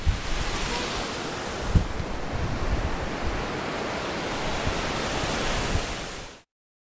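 Ocean waves and wind out on the water at Hanalei Bay, Hawaii, a steady broad roar of surf with gusty wind buffeting the microphone, ending abruptly in silence.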